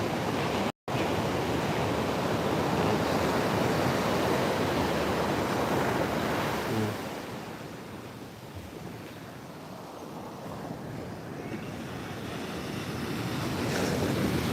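Ocean surf breaking on the beach at Pantai Muaro Bayang, Pessel, West Sumatra, a continuous broad roar swelling and easing with heavy wind buffeting the microphone, no voices.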